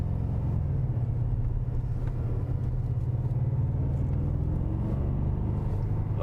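A Maserati Ghibli engine droning at a steady low rumble, constant and fairly loud from inside the car, with no voices over it.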